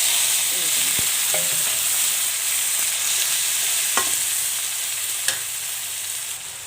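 Green chillies sizzle steadily in hot oil in a pan while cooking veg fried rice, with a constant frying hiss broken by a few sharp spatula knocks and scrapes as they are stirred.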